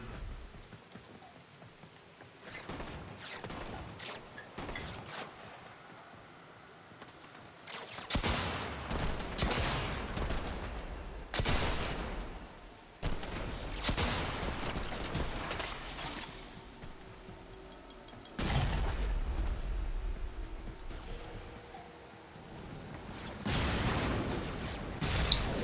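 Rocket fire and explosions in Warframe, bursts of rapid blasts and heavy booms arriving in loud clusters separated by quieter stretches of clattering gunfire and mechanical noise.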